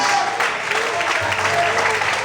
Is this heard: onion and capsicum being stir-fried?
no